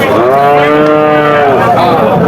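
A Pakistani Sahiwal calf at the Chougachha cattle market gives one loud, close, drawn-out moo lasting about a second and a half.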